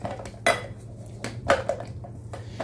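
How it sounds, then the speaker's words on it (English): A spatula mixes a carrot whitening cream inside a beaker, making close, sharp clinks and taps against the glass at irregular intervals over faint background hum. "I'm going to be using this spatula because it can go right into this beaker. And you want to mix it up real good."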